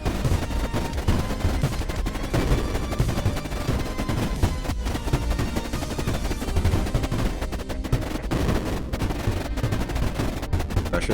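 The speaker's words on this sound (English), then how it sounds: "These defenders shooting." Defenders in Creeper World IXE keep up dense, continuous automatic gunfire, a steady barrage of rapid shots running throughout with no pauses.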